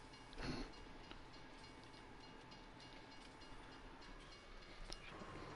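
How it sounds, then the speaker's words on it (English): A train rolls past in the video game Farming Simulator 19 at a feedyard, a faint continuous rumble and rattle of rail cars with a brief louder burst near the start. "This train's really gonna piss me off."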